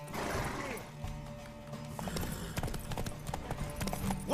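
Galloping horse hooves clatter in a fast, continuous clip-clop during a race in The Witcher 3 video game, layered over game music and mechanical effects.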